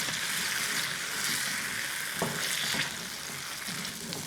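A ground cashew and melon seed paste with sliced green chilies sautés in a pan, hissing steadily, with a few stirring scrapes midway.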